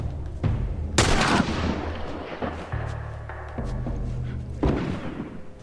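Enemy gunfire in the video game The Last of Us comes as several loud booming shots with sharp attacks, spaced irregularly and mixed with thuds and rumbling game sounds, with no talk.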